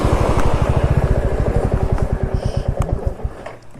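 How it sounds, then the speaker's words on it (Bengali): A motorcycle being parked at Panbu Dara viewpoint in the Kalimpong hills idles close by with a loud, rapid engine thump that slows and dies away near the end. "বাইকটা পার্ক করি এখানে।"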